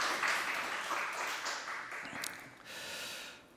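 A church congregation bursts into applause, a broad rushing wash of many hands that swells at first, dips, then picks up again before fading.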